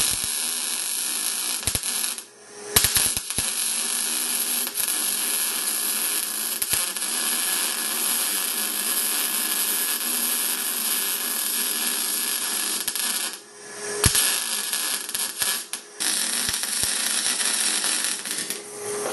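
An R-Tech Pro-MIG250-1 MIG welder runs with thick wire on a 30 amp supply, giving a loud, steady crackling buzz that stops briefly twice before starting again.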